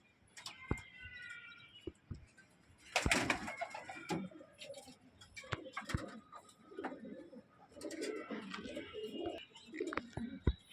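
A lively Kalshira pigeon in a loft gives low, throaty coos close by, mixed with scattered clicks, handling taps and wing flutters, with the cooing swelling in bursts across the stretch.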